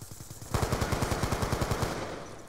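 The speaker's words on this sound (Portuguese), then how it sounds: "O cara tá atirando aqui, velho" Automatic rifle fire in Black Ops 2 on PC, a rapid, evenly spaced burst of about fifteen loud, close shots running for roughly two seconds.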